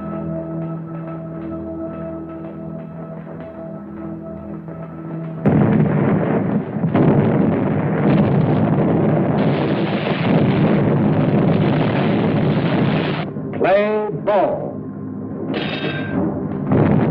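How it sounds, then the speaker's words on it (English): Shore batteries firing artillery during a wartime landing at Algiers, heavy booming blasts and rumbling concussions that build from a distant low drone into loud repeated explosions. "our landing craft also met fire from shore batteries"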